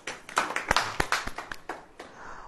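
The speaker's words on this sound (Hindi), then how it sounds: "ताली हो जाएगी।" A congregation at a sermon claps in a short burst, about a dozen sharp hand claps in a loose, uneven rhythm that tails off after two seconds.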